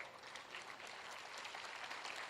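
An audience at a Hindi comic poetry gathering claps in a faint, even patter of many hands, distant and steady without any talking.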